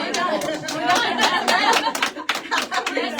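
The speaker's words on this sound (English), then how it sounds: "Round of applause." A live-show audience claps in a dense, irregular patter for a few seconds, with chatter and light laughter mixed in.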